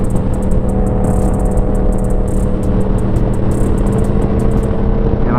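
A Yamaha MT-10 (FZ-10) motorcycle engine out on a ride, a loud, steady drone with wind rush and a faint high ticking over it, no talking.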